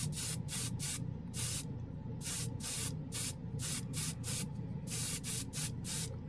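An airbrush spraying Kaleido Mecha acrylic base coat paint, heard as repeated short, loud hissing bursts in a steady on-off rhythm, close up and alone.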